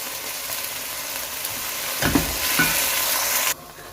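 Sizzling and stirring as canned tomato sauce for homemade red sauce pasta goes into a hot pan, a loud hiss rising abruptly midway, with a spoon scraping and the sizzle cutting off near the end; no talking.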